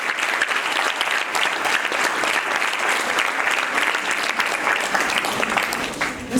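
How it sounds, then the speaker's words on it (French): Dense, steady applause from a large audience at the closing ceremony of the second Camp Lamine Diack 2022, continuous clapping filling the whole stretch at even loudness. "Monsieur Éric Lopez, je vous demande d'applaudir cette commission."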